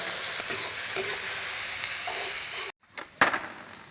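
Dried and fresh chillies sizzle in hot oil in a pan with banana shoots, and a spoon scrapes and stirs through them in a few quick strokes, close and steady with no talking.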